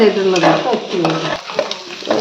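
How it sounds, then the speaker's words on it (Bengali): Egg and vegetables fry and sizzle in a pan while a utensil stirs and scrapes, giving a steady close crackle broken by short scraping strokes. "সবজিটা ভাজা হয়ে গেছে এখন ভাজতেছে হলো ডিমটা"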